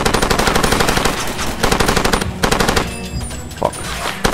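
Turret machine gun fire in Far Cry 2, loud sustained bursts of rapid automatic shots with brief pauses between volleys and game action noise around them.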